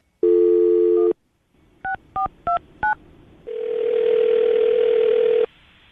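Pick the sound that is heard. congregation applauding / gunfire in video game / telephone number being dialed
telephone number being dialed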